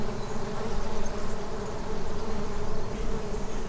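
Bees with long antennae and large eyes, not honeybees, buzzing steadily and densely on a Portuguese farm, a continuous close swarm drone with no voices.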